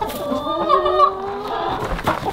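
A chicken clucks close by in a short run of throaty calls, with faint ambient noise and no talking.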